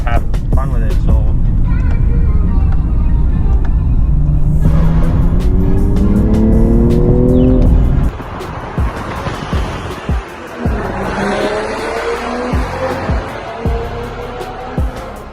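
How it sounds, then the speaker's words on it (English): A BMW M340i's six-cylinder engine pulls hard through the gears, its tone rising steadily in a long loud sweep before a gearshift and continued rumbling acceleration with wind noise. "I have a really nice sounding 6-cylinder engine with a lot of power"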